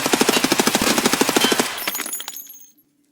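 Rapid automatic SMG fire from a budget submachine gun in a shooter video game, a fast loud burst of evenly spaced shots lasting about a second and a half, then a short ringing tail fading to silence.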